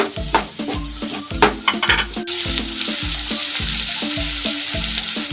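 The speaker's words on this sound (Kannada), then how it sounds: "ಈರುಳ್ಳಿ ಚೆನ್ನಾಗಿ ಎಣ್ಣೆಲಿ ಬೇಯಬೇಕು" Onions fry in oil for a tempering, with a steady crackling sizzle under rhythmic spoon scrapes against the pan, close and loud with no voices.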